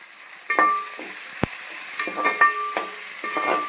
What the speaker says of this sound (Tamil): ஒரு 2 மினிட்ஸ் வந்து இந்த எண்ணெயிலே கொஞ்சம் வெண்டைக்காய் மறுபடி வதங்கணும்.